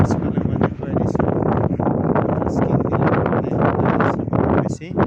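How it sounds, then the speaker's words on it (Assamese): Strong wind buffets the microphone on a hilltop at Laitlum near Shillong, Meghalaya, a loud, gusty rumble that continues without pause. "বহুত বেছি বতাহ"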